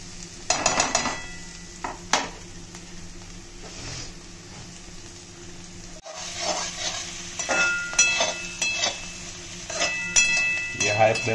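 Vegetables for railway-style cutlets cook on high flame, a soft sizzle with utensil clinks and stirring taps, broken by bursts of clatter and occasional speech nearby.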